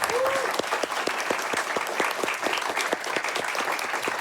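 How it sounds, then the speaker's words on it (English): An audience at a video game speedrunning charity marathon finale applauds in a steady, even patter of many hands, with a brief whistle near the start. "Let's give them a round of applause."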